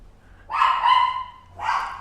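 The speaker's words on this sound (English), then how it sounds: "the dog is going crazy" An old dog barks indoors at a home in Veracruz, Mexico, giving two loud, close yelping barks, the first drawn out and the second shorter, with no talking.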